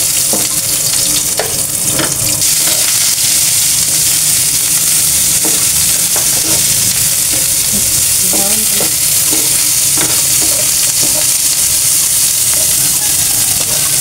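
Onion sautéing in a pan for kare-kare, a loud, dense, continuous sizzle with steady hiss, punctuated by scattered stirring scrapes and clinks, recorded close, with no one talking.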